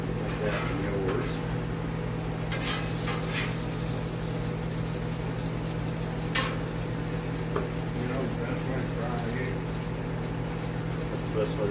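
An egg frying in a pan gives a steady, close sizzle with a constant low hum beneath it, broken by a few sharp clicks and taps of a utensil, while people talk over it.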